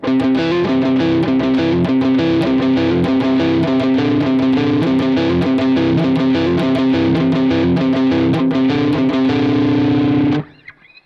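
A heavily distorted electric guitar drives through a loud, dense, fast-picked part of a song, continuous and close for about ten seconds before stopping abruptly, with no talking.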